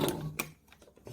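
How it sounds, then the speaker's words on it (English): A sewing machine stitches a seam on a tiered sun dress, a brief, faint mechanical whir with quick clattering ticks, heard alone. "So I just want to sew to the other side of that so it catches the seam allowance in the seam."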